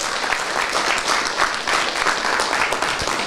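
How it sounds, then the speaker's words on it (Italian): An audience at a New Year's Eve variety show in Villa Collemandina applauds a trout-farming tribute with full, continuous clapping at moderate loudness. The applause swells slightly in waves, and no voices rise above it. "viva le trote di Colle Mandina, applauso se no vado via"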